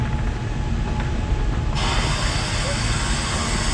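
Steady rumble and rattle of a moving train, heard from inside the carriage, with a brighter hiss joining partway through.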